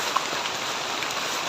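Steady rain pours down outdoors on a farm while a trellis is being built, a dense continuous hiss with scattered drops, no talking.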